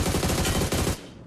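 Rapid automatic gunfire in a battle royale video game, a dense loud burst of shots firing close up for about a second before cutting off into a fading echo.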